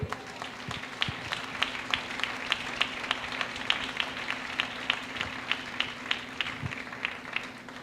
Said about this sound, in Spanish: Aplauda al Rey de Gloria.